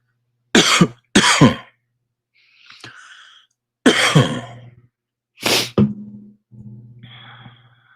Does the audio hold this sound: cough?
yes